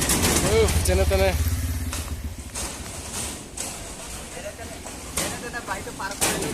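A Honda SP motorcycle engine drones low and close for the first second or so while crossing a shaky bridge, then fades as people talk over the remaining sound.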